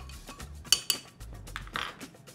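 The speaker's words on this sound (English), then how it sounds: "Stir it together." A spoon stirs a White Russian made with Kahlua and milk or cream in a glass, giving a few sharp close clinks and light scraping against a quiet background.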